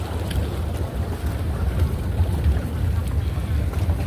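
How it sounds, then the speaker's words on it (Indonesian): A low, continuous rumble of small sea waves along a coast mixed with wind buffeting the microphone, steady and close throughout. "ini ada suara gemuruh, ini adalah ombak-ombak kecil yang ada di daerah ini."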